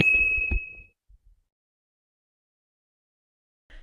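A single bright notification bell ding rings out and decays quickly, followed by near silence.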